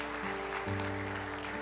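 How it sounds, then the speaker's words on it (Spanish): A church congregation gives a short round of applause, with the clapping spread over a low, sustained musical hum. "Un aplauso, ladies."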